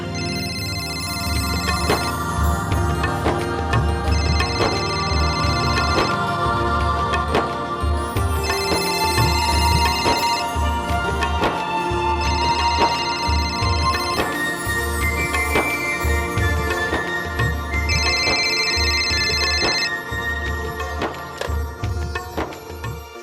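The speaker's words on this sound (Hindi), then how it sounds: "उसका फोन आने ही वाला होगा।" A telephone ringtone plays at length indoors, a repeating melodic electronic ring in regular bursts that continues loudly with no voices over it.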